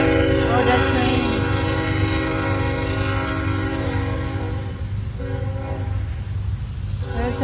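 A train rolls past near a car show in Alvin, Texas, its horn sounding in long sustained tones over rumbling rail noise, fairly loud and close.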